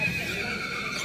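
A Kathiawari mare at a horse market gives a neigh against a steady, busy background, with no voices heard.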